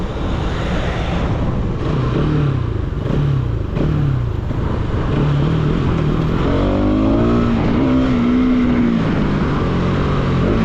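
A motorcycle engine revs at night, its loud continuous drone rising and falling through gear changes, with engine pitch climbing steadily toward the end; no one talks.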